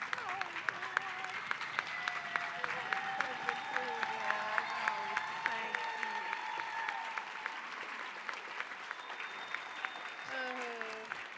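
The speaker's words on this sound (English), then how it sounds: "would you stand up and give her a round of applause?" An audience at a community college nursing pinning ceremony applauds a retiring faculty member: steady, sustained clapping through most of the stretch, moderately loud and fairly close, easing off toward the end.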